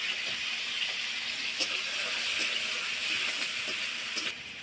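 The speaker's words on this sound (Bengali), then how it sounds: "তেলটা আমার গরম হয়ে গেছে, এবার আমি চিংড়ি মাছগুলো দিয়ে দেবো।" Prawns frying in hot oil in a pan give a steady, moderate hiss that carries evenly throughout, with a few faint clicks and no voices.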